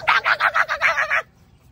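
Turkeys call at a mini zoo, a rapid series of about seven loud gobbling pulses close by, ending abruptly into quiet.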